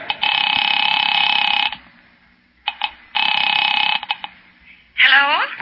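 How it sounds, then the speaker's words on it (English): Telephone tones in an old-time radio mystery drama: two long steady electronic tone bursts with short clicks between them, loud and close, followed by the start of a voice at the end. "Picking it up quietly, I dialed my daughter's number, Alec Bartlett's wife."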